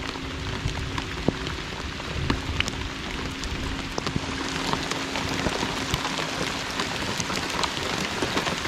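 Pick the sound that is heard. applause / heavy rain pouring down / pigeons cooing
heavy rain pouring down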